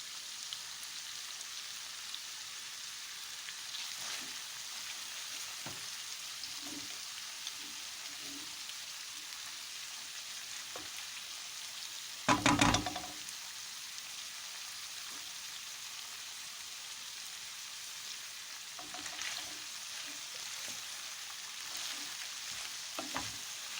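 Chopped green and red peppers sautéing with chicken in a pan, giving a quiet, steady sizzle with one brief louder clatter midway.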